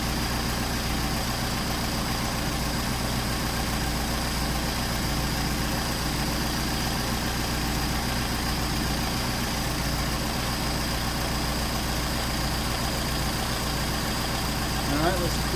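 A Mercedes 190SL engine idles on Solex 44PHH carburetors, a loud, steady, close rumble that holds evenly throughout with no audible change in pace.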